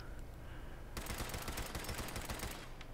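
A pipe pistol firing on full automatic in Fallout 76, a fast rattling string of shots that starts abruptly and runs for about two seconds before tapering off, heard at modest level.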